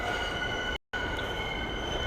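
Train crossing over the tracks in New York City, near Coney Island, a steady loud rumble of rail cars with a high metallic whine, briefly cut out for a moment midway.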